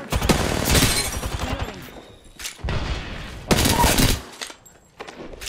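Bursts of rapid gunfire from an Apex Legends ranked match, loud and close, coming in three dense volleys separated by brief lulls, with a faint voice briefly underneath.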